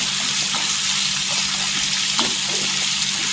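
Sliced onions fry in hot oil for a dhaba-style egg masala curry, giving a loud, steady, close sizzle that runs unbroken throughout with only faint clinks beneath it.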